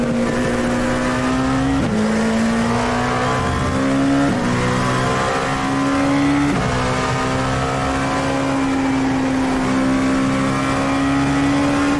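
BMW M Hybrid V8 LMdH prototype race car in iRacing, its V8 engine droning steadily with rising pitch through the gears and sharp dips at each upshift, loud and continuous with no talk.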